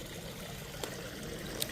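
Clear water trickles and flows in a small natural stream among lilies and greenery, a faint, steady babble with a couple of tiny splashes and no voices.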